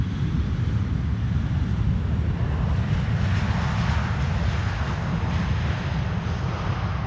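A KLM passenger jet arriving at Amsterdam Schiphol Airport, its engines a steady, loud, broadband roar that holds throughout with a deep rumble underneath and no talking.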